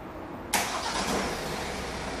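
A Kia Cerato engine cranks and catches abruptly, then settles straight into a steady, fairly close idle.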